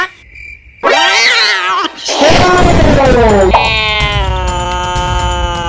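A cat stuck up a tree in a Roblox Brookhaven roleplay game meows loudly in several drawn-out, wavering cries, close and clear, following a brief soft sound at the start.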